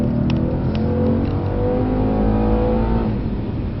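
A Mercedes C63s accelerating hard out of a corner under power, a loud, close engine drone with rising harmonic tones as revs climb, steady and continuous throughout.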